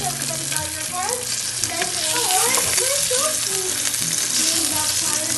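Rainbow trout sizzles and crackles steadily in a hot frying pan just after being flipped, a close, continuous frying hiss with faint voices talking underneath.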